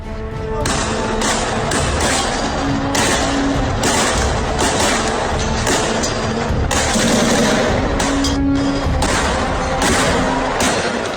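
Indiscriminate gunfire from about ten attackers in black robes in Montpellier, France, on a morning, heard as dense, loud bursts of rapid shots repeating throughout, with a noisy, chaotic background.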